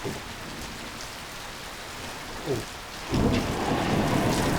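A thunderstorm breaks with heavy rain hissing steadily and a deep roll of thunder building and swelling into a loud, broad rumble partway through, with no talking.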